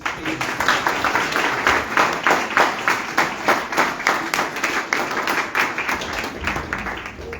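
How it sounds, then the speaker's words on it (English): A temple congregation at a Sunday feast program claps in a rhythmic, pulsing round, steady repeated beats from many hands sustained throughout at a moderate, close level. "Can we please have another round of applause?"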